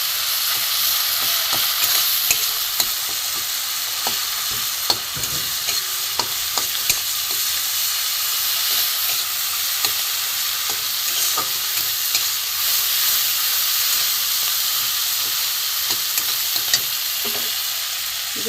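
Spices and grated ginger sauté in hot oil with a continuous bright sizzle, broken by frequent scraping and stirring clicks close by, with no talking.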